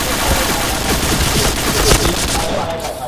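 Rapid, continuous automatic gunfire in a clan-match shooter video game, loud and close, forming a dense, steady barrage for the whole stretch with no clear talking over it.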